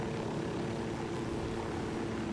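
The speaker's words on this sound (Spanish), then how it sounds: "Como hay un helicóptero abajo" A helicopter in the Ghost Recon video game gives off a steady, dense rotor and engine drone that stays loud and even throughout, with no talk.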